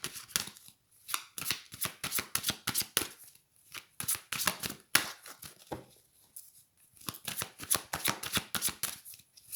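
Oracle cards shuffled by hand for a tarot-style love reading, a rapid run of crisp riffling bursts with short pauses between, close and fairly quiet, no talking.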